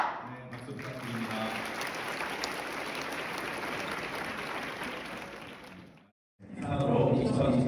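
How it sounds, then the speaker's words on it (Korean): An audience at a school freshman gathering applauds in a loud, sustained burst of clapping that suddenly cuts to near silence, then resumes with louder nearby voices and activity. "박수 부탁드립니다."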